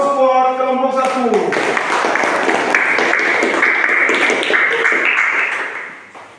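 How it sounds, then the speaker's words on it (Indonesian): A group of classmates applauds for presentation group 1 in a classroom, a dense, steady burst of clapping that fills the clip after a brief tonal start and fades out at the end. "Kita berikan aplaus buat kelompok 1."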